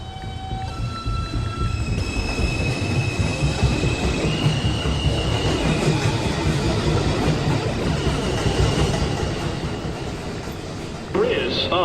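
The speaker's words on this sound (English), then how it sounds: "Downtown Express 2 train approaching the station" A New York City subway 2 train rumbles and screeches into a station, with loud wheel and track noise and some high squealing tones throughout.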